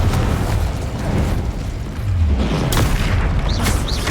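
Confringo blasting curse explosions in the Hogwarts Legacy video game, a loud, sustained rumbling boom with bursts of crackling debris and sharp hits near the end, with no talking.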